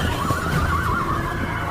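Horses neighing as a sound effect, a drawn-out wavering whinny over a steady background rumble, fairly loud and without speech.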